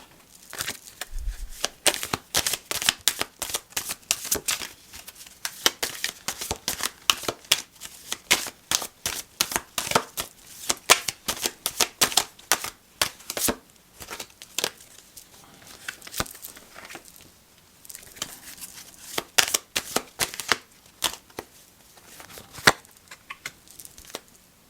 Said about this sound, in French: Alors on va encore tirer quelques cartes pour clôturer le jeu